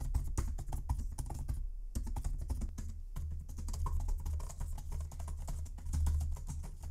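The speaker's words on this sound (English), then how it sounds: "The keys sound just subdued and just solid when typing" Steady, rapid typing on a MacBook Pro laptop keyboard, close and muted, with a brief pause partway through and a low hum underneath.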